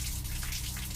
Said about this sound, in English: Is it the water?